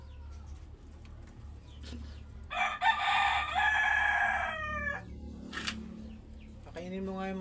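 A rooster crows loudly and nearby, with chicken clucks and cooing bird sounds around it over a low background hum.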